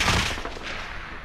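Gunfire rattles in a video game while players come under attack, heard as a brief burst of several rapid shots at moderate loudness.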